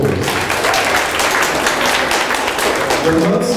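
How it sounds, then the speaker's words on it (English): An audience applauds non-lawyer guests at a book launch, dense steady clapping filling the room at close range with a murmur of voices mixed in. "Let's give the non-lawyers a round of applause"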